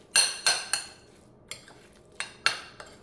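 Salmon ball ingredients being mixed in a bowl, heard as a run of sharp utensil clinks and taps against the bowl in irregular bursts, close and fairly loud with no talking.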